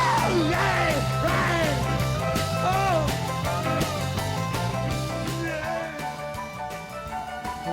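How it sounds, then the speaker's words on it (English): A screaming vocal rises over a dense, loud rock band mix in a recording, the voice bending and wailing across several phrases. "listen to this scream"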